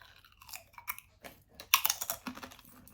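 Hand-cooked crisps crunched close to the mic, a few sharp crackling bites followed by quieter chewing crunches in quick succession.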